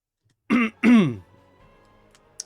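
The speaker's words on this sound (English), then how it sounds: "if you hear me clear my throat, it's because I'm desperately trying to breathe" A man getting over a cold clears his throat, two short rough bursts close to the mic, followed by quiet.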